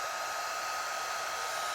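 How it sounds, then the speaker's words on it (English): Handheld hairdryer blowing a fast jet of air up under a floating ping pong ball, a steady, loud, unbroken whoosh with a constant high whine, no voices. "The air from the hairdryer is blowing right on the ball, pushing it upwards and it's keeping it in the air."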